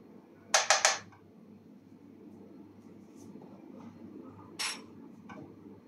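A teaspoon clinks and scrapes against a container while scooping coconut oil for kefir flapjacks, with three quick close metallic taps followed by a softer scrape a few seconds later over a quiet kitchen background.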